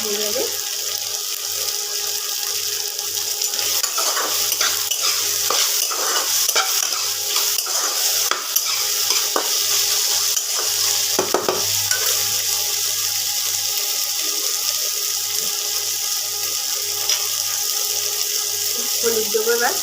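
Okra and potatoes, salted, fry in a pan while being stirred, giving a steady close sizzle with repeated scraping and rustling strokes throughout.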